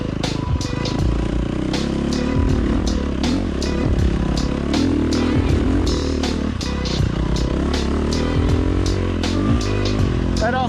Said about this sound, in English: Like you can hear I'm barely pushing the engine.